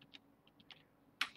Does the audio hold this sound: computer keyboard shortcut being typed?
yes